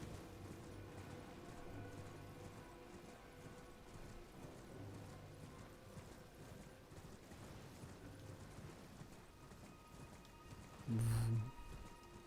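Faint, rhythmic clip-clop of a video-game horse's hooves galloping continues throughout, with one short louder thump near the end.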